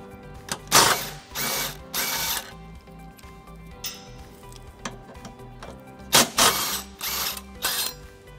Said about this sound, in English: Using a 17 millimeter socket, we're gonna go ahead and remove these two bolts.